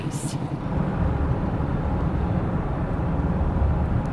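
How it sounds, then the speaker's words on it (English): Tractors rumble past on a road outside a vehicle with open windows, a steady low engine drone that fills the whole stretch at moderate level with no talk. "Good old tractors is going down the road."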